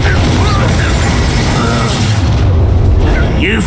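Confringo blasting spell explosion in the video game Hogwarts Legacy: a loud, sustained booming rumble with crackling bursts and fragments of game voices mixed in.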